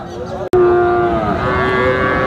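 At the Sirajganj Talgachhi livestock market, a heifer gives one long, loud, sustained moo that starts right after a sharp click.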